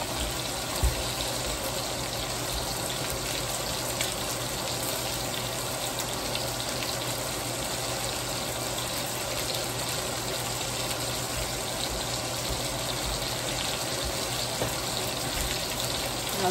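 Chicken stock poured into a pot of rice makes a steady liquid gush that runs without a break for the whole stretch, close and fairly constant in level.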